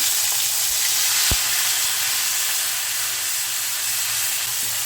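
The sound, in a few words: ginger paste sizzling as it is added to hot oil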